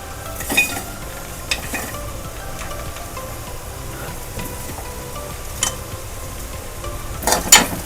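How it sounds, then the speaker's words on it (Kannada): Onion, ginger, garlic and white sesame seeds roast in a little oil in a pan, giving a soft continuous sizzle with occasional spatula scrapes and clinks; no one speaks. "ಇವಾಗ ನಾವು ಇಲ್ಲಿ ಈರುಳ್ಳಿ, ಸ್ವಲ್ಪ ಶುಂಠಿ, ಸ್ವಲ್ಪ ಬೆಳ್ಳುಳ್ಳಿ, ಸ್ವಲ್ಪ ಎಳ್ಳು, ಬಿಳಿ ಎಳ್ಳನ್ನು ಹಾಕ್ಕೊಂಡು ಹುರ್ಕೊಳಕ್ಕೆ ಹಾಕೋತಾ ಇದ್ದೀನಿ"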